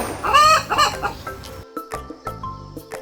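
A cartoon hen clucks repeatedly in short, close bursts, with a louder squawk near the start and quieter choppy clucks following.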